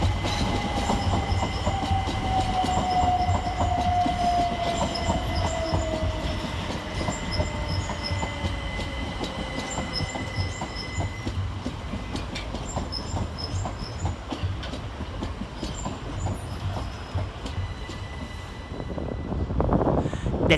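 Electric passenger trains rumble steadily through Three Bridges station, wheels clattering over points with a faint squeal and a high electrical whine, loud and continuous throughout.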